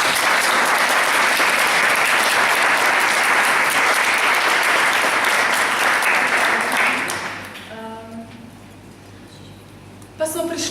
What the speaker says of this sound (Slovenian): tako da lahko zaploskamo